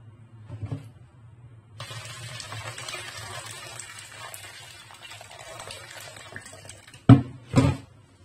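Freshly boiled water poured over plantain leaves in a bowl, a steady hissing splash that runs for several seconds, followed by two short bumps, with no talking.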